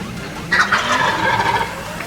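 An Osceola wild turkey gobbles once in a Florida hunting setting, a loud rapid rattling call rising over steady outdoor background noise.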